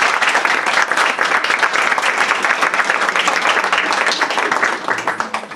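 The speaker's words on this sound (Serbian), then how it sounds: "Vi ih sad pozdravite jednim lepim aplauzom." Dense, even applause from a concert audience welcoming young performers, loud and continuous for several seconds before beginning to thin slightly at the end.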